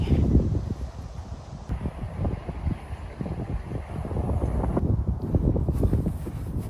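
Strong wind buffets the microphone on an open golf course, a steady low roar with gusting surges that stays loud and close throughout, with no voices.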